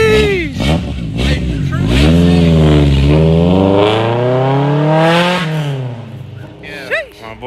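A truck engine revs hard as the vehicle drives off, pitch climbing and sweeping up and down before easing away, loud and close.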